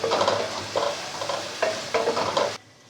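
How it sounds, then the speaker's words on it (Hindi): Two tablespoons of ginger-garlic paste frying in hot oil for beef paya, with a spoon stirring in short, rhythmic bursts of sizzle and scraping close by before the sound cuts off abruptly. "और इसे भी डाल के अच्छे तरीके से हम भून लेंगे।"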